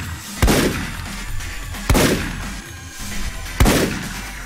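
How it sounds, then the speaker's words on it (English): Bombs explode in the video game Paranautical Activity, three sharp, loud blasts spaced about one and a half seconds apart, each decaying into a brief rumble. "The explosions of the bombs actually hurt you through the floors and ceilings and walls."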